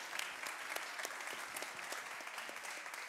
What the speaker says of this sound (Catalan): Doncs un fort aplaudiment